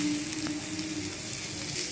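Tomatoes fry with garlic in a pan, giving a steady, close sizzle for a couple of seconds with a faint hum underneath.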